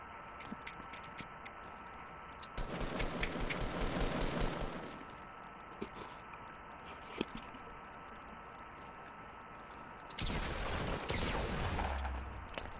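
Minigun fire in a video game, long rapid rattling bursts of gunfire at moderate distance, a pause with a few scattered clicks, then another sustained burst.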